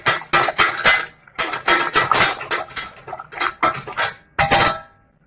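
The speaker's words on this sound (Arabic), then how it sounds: "نحرك حتى يبرد شي شويه." Lemon cream being stirred in a metal pot, with a steady run of scraping, clinking strokes of a utensil against the pot, close and fairly loud, broken by short pauses and no talk.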